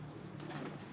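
Pigeons coo softly and briefly while being fed, a faint, low, close murmur.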